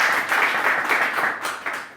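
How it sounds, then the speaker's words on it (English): Audience applause at a morning church talk, a short burst of many hands clapping in a room, steady then tapering off, with no speech over it. "Let's give Matt a round of applause."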